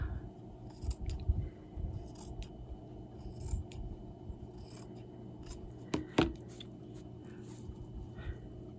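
Scissors trimming old vintage curtain fabric: a few close, crisp snips and shearing strokes over a low rustling background, with one sharp cut standing out partway through.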